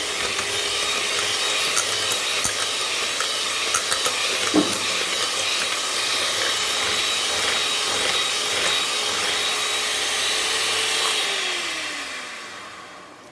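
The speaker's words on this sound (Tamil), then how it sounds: "ஸோ விப்பிங் க்ரீம் வந்து நல்லா பீட் பண்ணி எடுத்துக்கிறேன்" An electric beater whipping cream in a bowl: a steady, loud whirring drone with scraping texture that runs nearly throughout, then winds down in pitch and fades at the end, with no voices.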